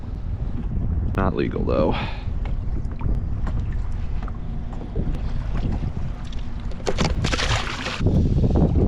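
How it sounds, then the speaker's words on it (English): Steady wind buffets a fishing boat on Western Long Island Sound, a constant low roar on the microphone from start to finish, with a few words of talk and some brief rustling and handling noise partway through. "We can't really move too far with this wind."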